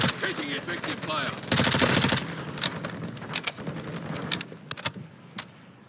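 Call of Duty: Modern Warfare II combat with automatic gunfire, an intense rapid burst in the middle followed by scattered sharper shots, partly under players' voices and radio chatter.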